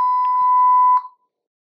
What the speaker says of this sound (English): Under custom, you will see our sensor beep.